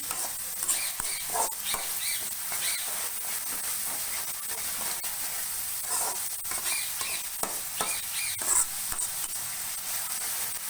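Dry fruits fry in a pan of hot oil for noodles, giving a continuous close sizzle and hiss with occasional stirring scrapes and spatters throughout.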